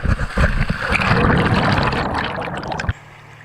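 A rushing, splashing wash of water as a waterslide ends in a resort pool in Kona, Hawaii, loud and continuous for about three seconds, then cutting off abruptly to quiet.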